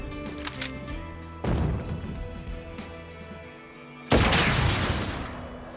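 Sniper rifle shots in the video game Crisis Core: Final Fantasy VII Reunion, two loud sharp reports roughly three seconds apart, each with a long decaying echo over a low game soundscape.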